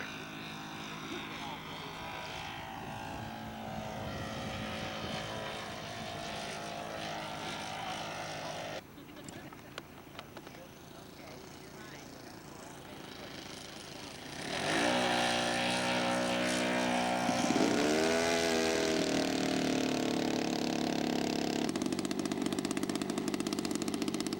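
A quiet four-stroke floatplane engine at a float fly-in runs steadily, with a shift in the middle and then a louder stretch with rising and falling propeller tones, and no voices.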